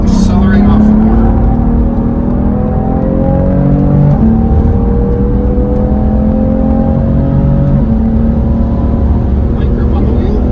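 A BMW driven hard on a track accelerates out of a corner, its engine note loud and continuous with rising harmonic sweeps as revs climb, and a voice talks over it throughout.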